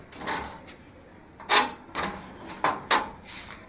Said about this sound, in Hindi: हम दरवाज़ा खोलते हैं और जाते हैं अंदर